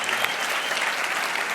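Steady applause fills the hall at the Imagine Cup World Finals 2018 award ceremony as third place winners are honoured, a dense even clapping from a large audience that holds at one level throughout without a break.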